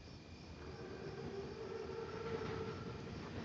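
Armored German Panzerzug train in a World War II shooter game, a steady low rumbling roll with a faint tonal hum rising midway, continuous and moderately distant with no talk.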